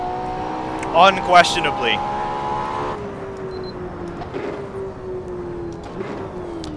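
A Ferrari LaFerrari engine holds a steady, smooth drone whose pitch slowly sinks as the car drives, under a voice speaking close by.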